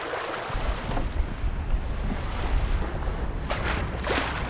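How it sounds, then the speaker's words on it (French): Steady wind roaring across an open microphone aboard a moving sailboat at sea, with the broadband wash of waves and water rushing past the hull. "aujourd'hui le vent est un petit peu plus corsé"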